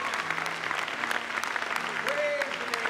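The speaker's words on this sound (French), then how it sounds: "Applaudissons le Seigneur." A church congregation claps steadily at a moderate distance during a French-English service, with voices murmuring and a sung or spoken tone rising underneath.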